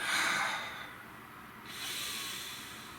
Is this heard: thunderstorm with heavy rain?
no